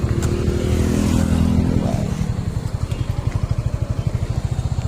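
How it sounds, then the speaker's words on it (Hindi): A motorcycle engine just after starting, revving loudly and close for a couple of seconds, then settling into a steady, rhythmic thumping idle. "अब गाड़ी स्टार्ट हो गला"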